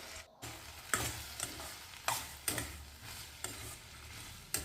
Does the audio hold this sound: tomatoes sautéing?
yes